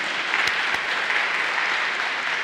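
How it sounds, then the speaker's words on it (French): A congregation applauds during a Mass of Divine Mercy, a steady, even wash of clapping at moderate volume that holds throughout without a break. "On va l'applaudir, notre Jésus miséricordieux"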